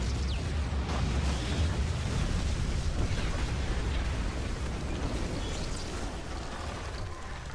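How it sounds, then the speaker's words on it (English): Layered explosion sound effects for an After Effects map animation, a dense continuous roar of rumbling blasts and crackling bursts that stays loud and steady throughout, with no clear gaps between booms. "Just grab a couple of different explosion here, another explosion here."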